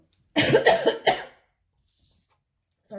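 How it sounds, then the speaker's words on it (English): A single close fit of coughing, three quick harsh bursts, then near silence with a faint sniff afterward. "if I cough and sniff"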